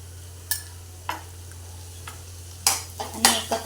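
Green chili and ginger-garlic paste sautéing in a pan, with a low steady hum under several sharp spoon scrapes and clinks spaced about a second apart, growing busier toward the end.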